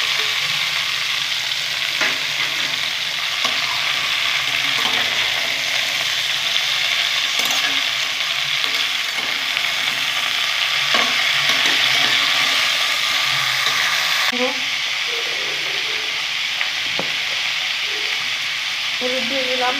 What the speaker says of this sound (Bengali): আমি একটু ভালো করে সাঁতলে নেব সবজিগুলো।